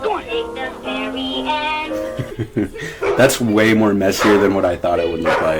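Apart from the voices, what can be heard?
dog barking on a movie set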